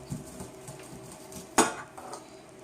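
A sharp knife is drawn down a corn cob close to the core, giving soft scraping cuts and one sharp clack against the board partway through, near and quiet with no speech.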